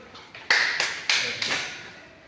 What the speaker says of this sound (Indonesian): Tepuk tangan dulu buat Roy.